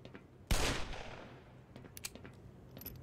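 A single sharp gunshot bursts out while shooting enemies in Black Mesa, decaying with a rumbling tail, followed by scattered faint clicks and impacts.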